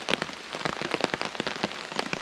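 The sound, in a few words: Welsh rain bashing against a tarp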